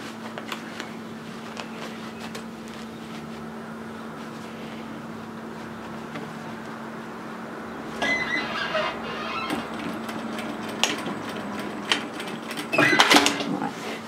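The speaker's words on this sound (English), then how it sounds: "I'm just going to bring that through and stitch it down just on the edge" A sewing machine stitches down a fabric edge while sewing a pleated peplum twist top, first as a steady low hum and then as a busier, rattling run of stitching toward the end.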